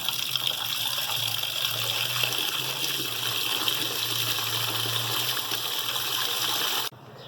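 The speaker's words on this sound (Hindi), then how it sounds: "अब हम इसमें डालेंगे पानी।" Water gushes steadily into a vessel holding goat liver for washing in a kitchen, a continuous close pour that runs for about seven seconds before stopping abruptly.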